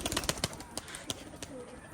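A domestic pigeon at a home loft coos faintly in short, soft bursts, mixed with brief fluttery rustles, all within about two seconds.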